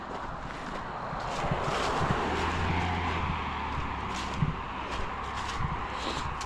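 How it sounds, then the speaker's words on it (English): A car approaches from behind and passes a walker on a rural road in Maine, a broad rushing swell of tire and engine noise mixed with wind buffeting the microphone. "Hear a car coming up behind me."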